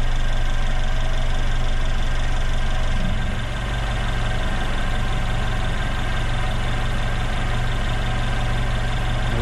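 A car engine running steadily during a battery charging test, a continuous close idle hum with a slight dip in level a few seconds in, no talk.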